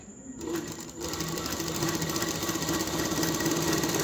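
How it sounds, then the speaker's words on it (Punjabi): Electric sewing machine stitching close beside the buckram interlining of a kameez neckline, a steady continuous whirring hum that starts up after a brief quiet moment and runs loud and even to the end. "ਹੁਣ ਅਸੀਂ ਬਿਲਕੁਲ- ਬੁਕਰਮ ਦੇ ਜਿਹੜੇ ਨੇੜੇ ਨੇੜੇ ਹੈਗਾ ਸਲਾਈ ਲਗਾਵਾਂਗੇ"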